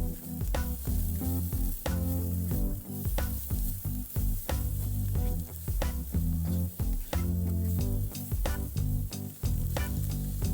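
Onions and beech mushrooms sizzle loudly and steadily in a pan for Korean braised tofu, a continuous close frying hiss with stirring and no voices.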